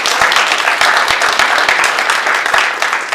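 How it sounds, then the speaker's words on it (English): Audience applause for panelists at a 15th anniversary celebration panel, a dense steady patter of many hands clapping close by, with a few sharper individual claps standing out through about three seconds. "Panelists, a big round of applause"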